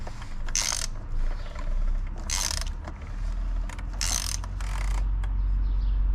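A ratchet with a 24 mm socket works on the oil filter housing of a 2012 Chevy Cruze 1.4L turbo. It makes several bursts of fast clicking over a low, steady background hum.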